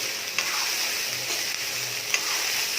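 Vegetables and rice for veg fried rice sizzle steadily in a hot pan, a dense, close hiss with a couple of soft scraping stirs.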